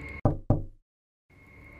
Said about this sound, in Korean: 하고 노크를 하더라는 겁니다.